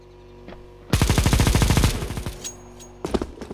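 Gunfire in the game CS:GO: a loud, close burst of rapid shots lasting about a second, then scattered smaller impacts and a few more quick shots near the end.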